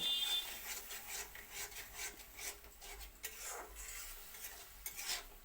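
Masala for a boal fish tomato gravy stirred and fried in a pan: a continuous, fairly quiet scraping and rubbing of a spoon over a low frying hiss, steady with small rhythmic swells.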